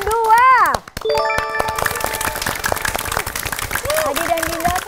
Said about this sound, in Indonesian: tepuk tangan dulu untuk kelompok merah